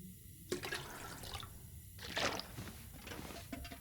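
Stored water picked up in the video game The Long Dark, heard as a few brief watery sloshes and pours in a quiet interior, moderately near and alone.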